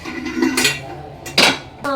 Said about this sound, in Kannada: ಕುಕ್ಕರಲ್ಲಿ ಸಾಂಬಾರ್ಗೆ ಇಡ್ತೀನಿ,